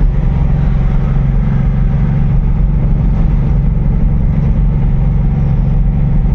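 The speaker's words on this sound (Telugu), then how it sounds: "ట్రాఫిక్ స్టార్ట్ అవుతుంది ఇక మళ్ళా" Road traffic heard from inside a truck on the way back into Hyderabad city past the ORR, a constant loud low engine drone and hum of surrounding vehicles with no breaks and no talking.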